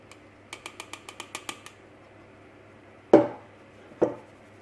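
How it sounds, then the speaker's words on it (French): Flour and cocoa are being sifted through a sieve for a chocolate genoise: a quick run of about ten light, evenly spaced taps on the sieve, then two louder, hollow knocks. "On le passe au tamis, hein, c'est impératif."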